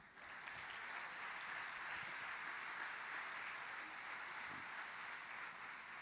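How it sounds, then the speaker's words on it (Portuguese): Steady, dense applause from a large church congregation fills the whole stretch at an even level, with no voices breaking through. "Uma salva de palmas."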